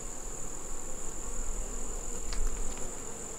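Steady, fairly close insect buzzing drones at a beehive, with no voices and a few faint brief clicks partway through.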